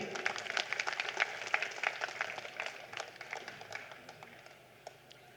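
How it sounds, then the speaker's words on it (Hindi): Scattered audience clapping welcoming a speaker at a political rally in Kurla, a moderately faint patter of individual claps that thins out and fades over the last couple of seconds. "जोरदार तालियों से स्वागत कीजिए।"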